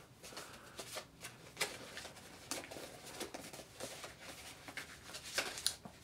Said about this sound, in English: Shuffle up some more.